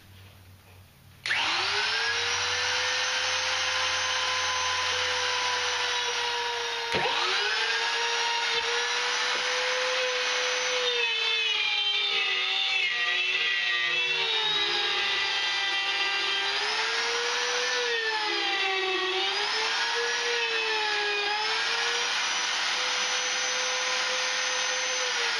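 A power tool whines loudly and continuously while cutting wood bracing for a resonator guitar kit, its high steady drone dipping and rising in pitch as the blade loads and frees, with no talking.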